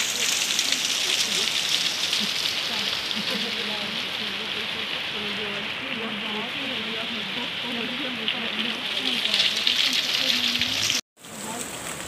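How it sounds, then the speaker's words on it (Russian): Rain pours steadily onto surfaces outdoors with a dense, constant patter and hiss, while people talk under shelter close by, the downpour loud throughout until a brief cut near the end. "мы стоим сейчас, от дождя прячемся"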